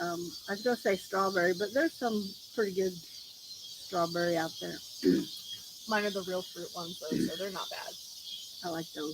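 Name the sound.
cicadas buzzing outdoors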